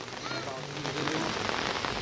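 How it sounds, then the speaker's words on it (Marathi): Heavy rain falling steadily during a village Dahi Handi celebration in Konkan, a dense, continuous patter on surfaces close by. "पाऊस पण जोरात आहे सकाळपासून"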